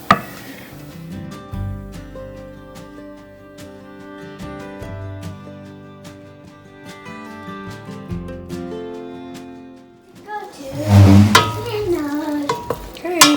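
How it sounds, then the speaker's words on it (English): Flour is stirred into a soup with onion, garlic, spicy sausage and cream to keep it from clumping, producing soft scraping and clicking strokes beneath prominent background music, with a louder burst of stirring near the end. "I'm just kind of incorporating this in so it won't like clump up in this soup that I'm making."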